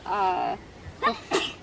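A person sneezes in a vegetable garden near tomato plants: a loud voiced burst, then two sharp, close sneezes in quick succession.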